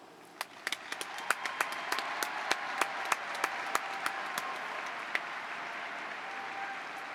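A graduation commencement audience at Portland State University claps in applause, a dense spatter of hands with sharp individual claps popping out, rising quickly and holding steady at a moderate distance.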